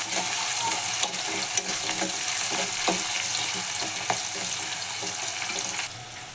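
Onions frying in hot oil in a home kitchen pan, a loud continuous hiss and crackle with a few scattered clicks, easing off slightly near the end, with no voices.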